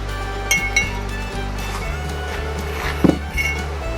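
Metal clinks and knocks from hammering on a broken tractor PTO shaft during a repair, a few sharp irregular strikes over a low steady hum, moderately close.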